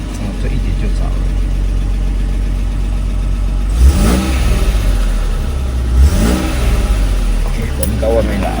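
A Mercedes-Benz R107 280SL engine runs after a fuel distributor repair, holding a steady low idle with two sharp revs near the middle and a third rise at the end, with voices in the background.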